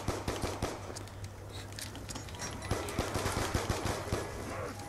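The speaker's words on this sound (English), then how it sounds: "Three clips and one shot to kill that zombie, and every shot was on his head." Rapid bursts of gunfire ring out in a zombie video game, the shots cracking in quick, uneven succession over a low steady hum, fairly quiet overall.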